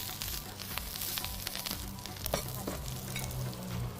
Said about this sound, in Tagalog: next is we'll put some onions. Okay. Lightly saute.